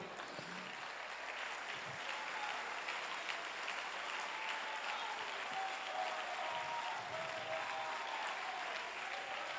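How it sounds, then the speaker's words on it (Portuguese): A church congregation applauds steadily throughout, a dense continuous wash of clapping filling the hall at moderate distance, with a few faint voices mixed in. "Você pode aplaudir."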